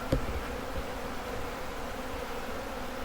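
A swarm of honey bees at a hive gives off a continuous dense buzzing drone, steady and close, with no voices.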